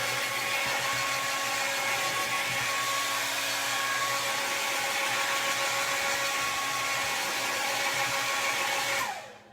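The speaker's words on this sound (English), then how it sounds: "I'm just hitting it with my blow dryer on both sides." A blow dryer drying freshly cleaned paintwork on both sides of a piece, a loud, steady, close-up whirring hiss running unbroken for about nine seconds before switching off at the end.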